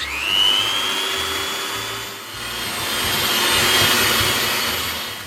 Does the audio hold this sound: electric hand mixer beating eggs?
yes